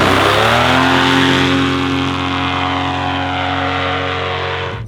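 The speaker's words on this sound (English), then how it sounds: "The 2-stroke sounds a little tinny, higher pitched" A two-stroke aircraft engine runs loud and close with a tinny, higher-pitched steady drone that slowly sags slightly in pitch over several seconds.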